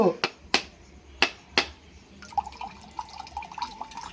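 A few sharp knocks ring out as a coconut cracks open, then quick light drips of its water patter and trickle nearby.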